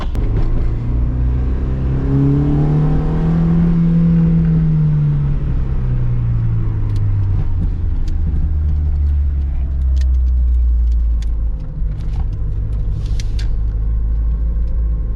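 A steady Honda Civic engine, a D16Y8 EFI swap, drones from inside the cabin, a low rumble that rises and falls with revs, continuous and fairly loud throughout.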